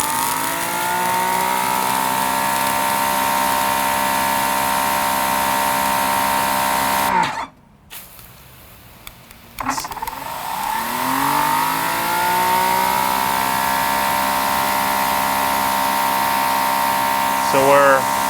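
A GreenWorks electric pressure washer hums steadily with a tonal motor whine, drops out briefly, then ramps back up to a sustained running pitch; the machine is close and loud throughout.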